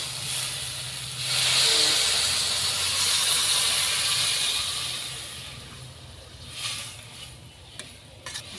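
Water poured into a sizzling pan of cooked lentils with potato and sweet pumpkin stems, a loud steamy hiss that swells for several seconds, then fades to a softer simmering crackle.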